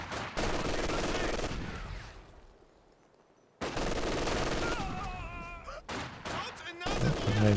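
LMG Grenadiers open machine gun fire in Company of Heroes 2, dense loud bursts of gunfire that fade, drop to near silence, then resume with sharp shots and ricochets amid battle noise.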